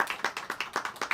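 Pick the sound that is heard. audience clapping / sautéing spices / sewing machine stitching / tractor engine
audience clapping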